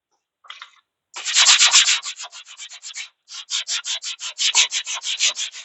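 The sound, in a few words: sanding a forged hatchet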